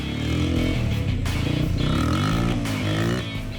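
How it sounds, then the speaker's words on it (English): A four-wheeler ATV engine idles and revs at an off-road riding area, a steady close motor drone with rising and falling pitch throughout. "I've been riding my four-wheeler, this one."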